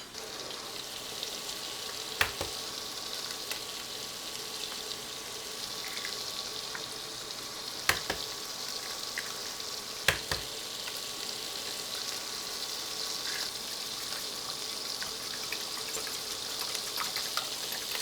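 Ground beef frying in a pan alongside scrambled eggs, a steady close sizzle with faint crackles and a few sharp clicks, no talk.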